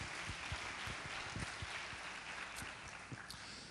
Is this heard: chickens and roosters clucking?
no